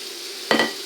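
A garlic clove added to homemade tomato sauce frying in a pan, a soft steady simmer that breaks into a short, loud sizzling burst and then a second brief flare near the end.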